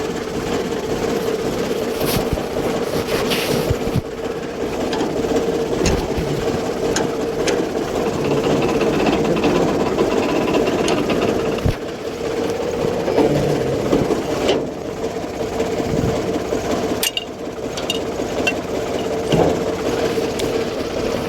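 A tractor engine runs steadily and loudly nearby on a farm, with a constant droning rumble and occasional knocks and rattles throughout.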